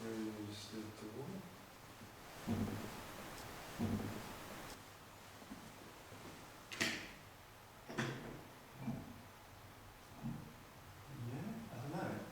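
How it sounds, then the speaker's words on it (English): Two knocks inside a room of the old Harwich Redoubt fort, short dull thuds spaced apart in a quiet, echoing space, with people talking and moving around them. "It was 2 knocks, wasn't it?"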